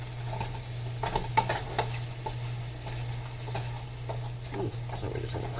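Breakfast casserole ingredients sizzle and fry in a pan while being stirred and broken up, with steady close hiss and occasional scraping knocks of the utensil, no voices.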